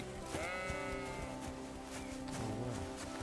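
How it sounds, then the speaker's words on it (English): Sheep bleat twice in the video game Kingdom Come: Deliverance 2, wavering nasal calls over a busy, constant background of game music and ambience. "Sheep."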